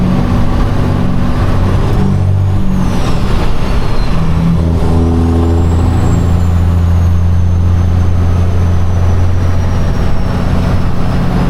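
An empty semi truck's diesel engine drones loudly and up close as the driver splits gears, with the engine pitch dropping and then settling into a deep, steady rumble, with no voice.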